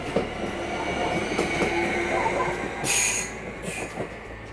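A train pulls out of a small rural station in Canton Bern, rolling rumble and wheel clatter nearby with sharp bursts of wheel squeal, no talking.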